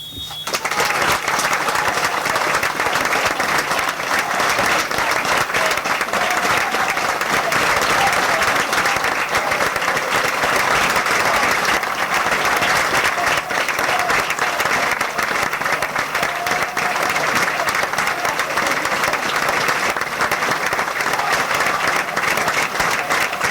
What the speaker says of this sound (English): we'd like to invite you to join us in a minute's applause to honour his memory